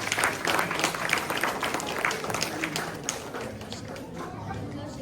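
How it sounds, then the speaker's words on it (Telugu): Audience applause for a children's performance at a Telugu language festival, a sustained dense clapping from a crowd indoors, fairly near, with voices and chatter mixed in. "పిల్లలకు గట్టిగా చప్పట్లు కొట్టండి"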